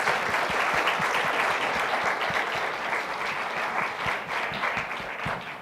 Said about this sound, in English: So can we get a round of applause for her?